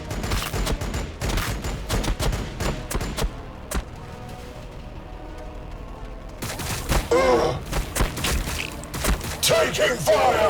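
Gunfire from the Battlesector Blood Angels game, including bolt pistol shots, as dense bursts of rapid cracking shots and thuds, dropping to a brief lull before heavy volleys resume loudly.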